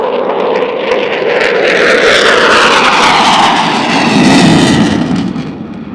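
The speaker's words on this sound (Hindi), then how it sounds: "परेड वेन्यू के बाएं जानिब से आते हुए यह तैयारा मैक्स रेट टर्न का मुजाहिरा आपके सामने पेश करेगा" A military jet flies a tight maximum-rate turn over a national day parade. Its loud, sustained engine roar sweeps past, rising, falling and shifting in pitch as it banks, then eases slightly at the end.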